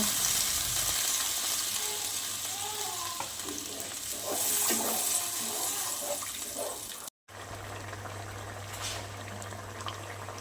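Potato curry sizzling and bubbling loudly in a pan as water goes in, a steady broadband hiss with stirring scrapes, a brief dropout near the end before the boil resumes.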